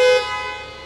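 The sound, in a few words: Ineos Grenadier normal car horn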